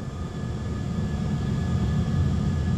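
Jet engines of an Airbus A320 on its takeoff roll on runway 23 at Geneva, a steady low roar that holds close and strong for a few seconds with no pause.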